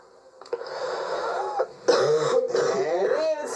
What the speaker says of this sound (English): I bet you can't stop coughing